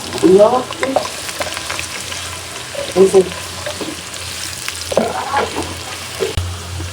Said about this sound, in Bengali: এখানে একটু লং আর এলাচ দিয়ে দিলাম, দারচিনি সহ